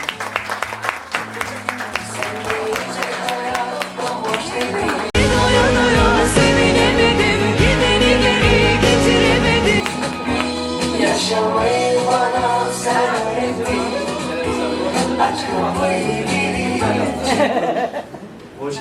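An audience at an engagement party applauds loudly and continuously, blended with music and some crowd noise, swelling after the first few seconds and then holding steady.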